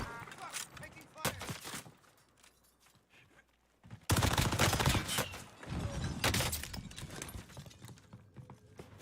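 Gunfire in Call of Duty Warzone, with sharp bursts of shots and rattling impacts. A quieter stretch is broken by a loud, dense barrage near the middle, and voices are present.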